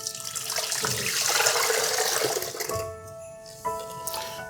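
Brine for a roasting turkey is poured into a container, making a splashing, gurgling liquid pour that swells, tapers and surges again briefly near the end, close and alone.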